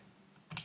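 A computer keyboard gives a single short burst of key clatter near the end, close and fairly crisp, while code for an STM32 ARM microcontroller project is typed in the Keil IDE.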